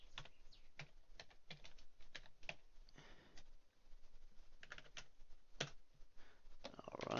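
Keys clack on a computer keyboard as a command is typed, a quiet irregular run of close taps and presses with brief pauses.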